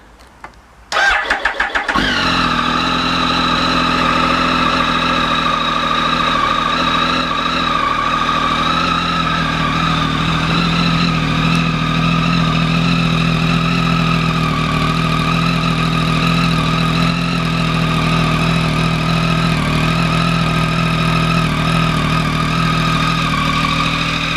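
A Triumph Speed Triple 1050R motorcycle fires up outdoors on a chilly day, a few cranking bursts catching into a loud, steady mid-pitched idle that runs close by and alone.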